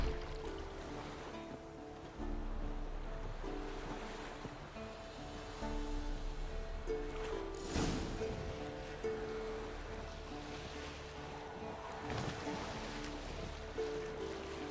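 Lake water lapping and sloshing around a small boat in The Witcher 3 game, a soft continuous wash of waves with low rumble and occasional splashes, fairly quiet and without talk.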